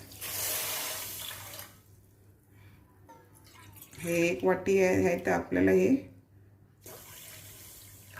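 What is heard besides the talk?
pouring water into sugar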